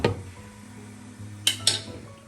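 A metal lid lifted off a pan of cabbage and carrot thoran: a light clink at the start, a quiet stretch, then two sharp metallic clatters close together, near and clear, no voices.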